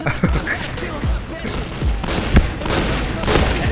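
Rapid gunfire from shotguns in the online shooter Point Blank, a dense run of booming shots and thuds with a voice speaking over the firing.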